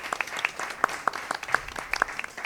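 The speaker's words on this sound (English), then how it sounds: "Round of applause for them." An audience at a quiz competition claps in a scattered round of applause, with distinct individual claps near and loud over a softer crowd wash.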